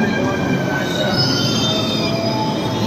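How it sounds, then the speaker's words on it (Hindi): A Mumbai metro train rumbles along with loud, sustained wheel squeal and high metallic whine, steady and close throughout. "ये मुंबई की मेट्रो है, यहाँ पे इतना भीड़।"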